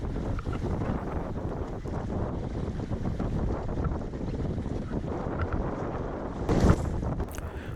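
Steady wind buffeting the microphone aboard a Welsford Navigator dinghy sailing in strengthening wind in the gap between an island and the mainland, a continuous rushing roar with water noise beneath and a brief louder gust near the end.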